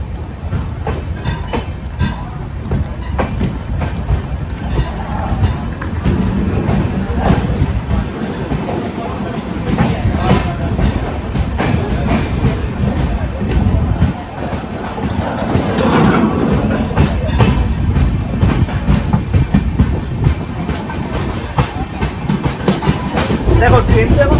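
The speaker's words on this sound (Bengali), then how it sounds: "দেখো ট্রেন তো এখন ফার্স্ট ক্লাস মোটামুটি চলছে" Train in motion heard from inside a first class carriage, a steady rumble with rhythmic clickety-clack of the wheels and some wind noise running throughout, with voices talking faintly at times.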